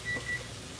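A kitchen timer goes off with two short, clear electronic beeps close by, then a quiet room hum.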